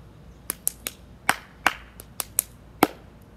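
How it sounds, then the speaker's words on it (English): Hand claps in a mix of middle and low pitches, about ten sharp isolated claps in an uneven rhythm, close and clear against a quiet background. "mix between middle and low pitch claps"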